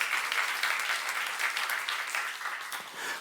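A church youth congregation applauds in a sustained, fairly close burst of many hands clapping, with no talking over it.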